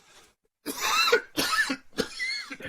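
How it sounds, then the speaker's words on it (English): Three harsh, rough coughs in quick succession, close and loud, after a brief quiet start. "I'm going to cough."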